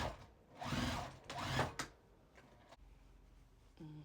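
Sewing machine stitching fabric for a heart-shaped mug rug in two short bursts, faint and close, followed by quiet handling and soft clicks.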